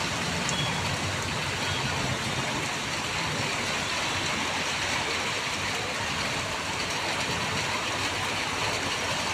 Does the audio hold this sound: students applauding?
no